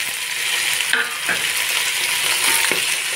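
Vegetables stir-fried in a pan give a steady close sizzle, with a few soft scrapes of stirring over it and no voices.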